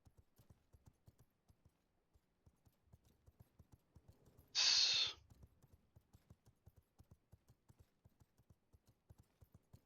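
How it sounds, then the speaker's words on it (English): Hooves clip-clop at a steady pace as a horse is ridden in the V Rising video game. Brief loud hiss-like burst cuts in mid-ride. "I'm gonna take the horse."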